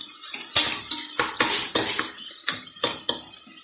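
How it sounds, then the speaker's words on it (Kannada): Onions with turmeric powder stirred in a pot for drum-stick sambar, a utensil scraping and knocking against the metal in a steady series of close, distinct strokes with a faint sizzle underneath, no voices. "ಅರಿಶಿನ ಪುಡಿ ಹಾಕಿ ಮತ್ತೊಂದು ಸಲ ಈ ಥರ ತಿರುಗ್ಕೊಳ್ಳಿ."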